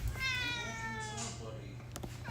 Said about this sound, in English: Why are you meowing and crying?